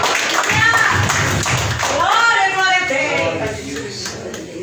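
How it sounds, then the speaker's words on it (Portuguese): Clapping from a church congregation during a worship service, rhythmic and fairly loud, mixed with voices speaking and calling out over it. "Dá uma salva de palmas para Jesus"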